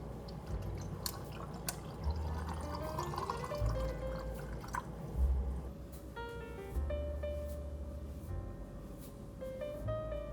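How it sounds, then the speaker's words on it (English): Coconut water poured into a cup, with steady trickling and dripping running throughout, close by and soft, with faint tonal hum and occasional clicks in a quiet room. "And then just coconut water."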